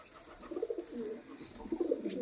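Pigeons feeding on a rooftop coo softly nearby, a few low, rounded calls rising and falling in short bursts over a quiet background hum.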